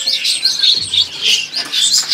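A murai (magpie-robin) songbird sings close by in a run of quick, bright, high chirps and whistled notes, carrying on steadily for about two seconds with a faint low thump partway through and no voices.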